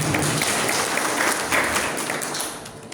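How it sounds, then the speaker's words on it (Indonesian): Audience at an evening Muhammadiyah religious gathering applauding, a dense, steady burst of many hands clapping that slowly fades toward the end. "Tepuk tangan untuk Muhammadiyah."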